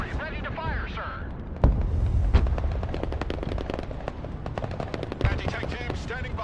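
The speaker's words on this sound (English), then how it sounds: "Artillery ready to fire, sir." Video game combat with rapid gunfire and artillery booms, crackling in quick repeated bursts, while a voice speaks over the battle throughout.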